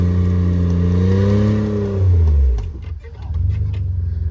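A vehicle engine revving hard with its tires spinning for traction, a strong rising and wavering drone that drops off abruptly, then rough churning and a lower engine note returning, loud and close.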